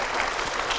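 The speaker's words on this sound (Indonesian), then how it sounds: "Boleh tepuk tangannya?" Under a second of dense audience clapping at a campus event, steady and fairly close, with no voice over it.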